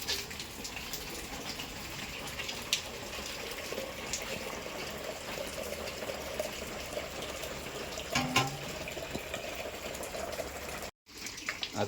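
Tap water runs steadily into a container with a continuous rushing hiss that cuts out briefly near the end.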